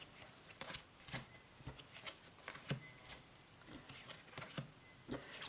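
Thick cardstock playing cards being ruffle shuffled, giving soft, quick riffling bursts repeated several times at close range and fairly quiet, with no talking.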